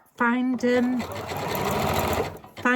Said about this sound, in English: and I'm sewing it down